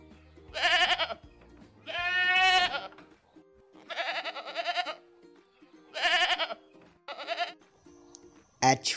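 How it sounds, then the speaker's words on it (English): A goat bleats several times, long wavering cries at uneven intervals, close and fairly loud, ending with a brief sharp noise. "G for goat"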